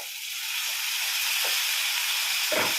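Tomatoes hit frying mutton keema in a hot pan, producing a steady, loud close sizzle and hiss that holds throughout, with a couple of faint clinks underneath.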